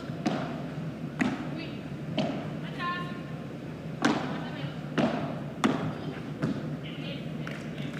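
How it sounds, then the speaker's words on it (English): Padel ball struck in volleys during a women's World Padel League doubles match, giving a run of sharp, hollow thuds a second or so apart, close and fairly loud over a steady arena murmur with voices talking. "A better volley there from Araújo."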